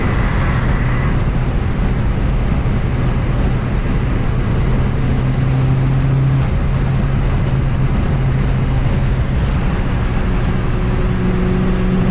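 Mitsubishi Lancer Evo 8 with a 5-speed cruising on the highway near 4,000 RPM at about 85 mph, a constant loud engine drone with heavy road and wind roar, no talking.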